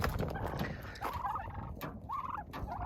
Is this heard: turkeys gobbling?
yes